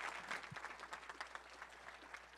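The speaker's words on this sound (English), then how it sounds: "Give Gary another round of applause." A room of entrepreneurs at a mastermind gathering claps for a speaker, moderately distant and steady, with a murmur of crowd noise beneath the clapping.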